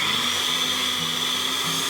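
Kitchen blender or food processor running on pesto ingredients, a steady high-pitched motor whine with a faint low churning underneath, close and continuous, no talk.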